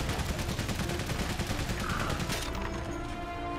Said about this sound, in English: Machine gun, alright.